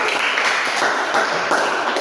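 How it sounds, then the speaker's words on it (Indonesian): An indoor training-session audience breaks into steady, dense applause, a continuous wash of many hands clapping fairly close and loud throughout. "Tepuk tangan dulu untuk kita semua"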